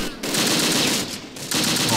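Machine gun fire from an MG unit in the World War II tactics game Close Combat: Panthers in the Fog crackles in two loud sustained bursts separated by a short lull, close and dense.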